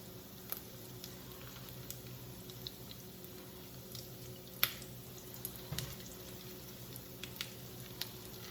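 Salmon patties frying in a non-stick skillet give off a faint, steady sizzle with a few soft clicks and ticks scattered through it, and no voices are heard.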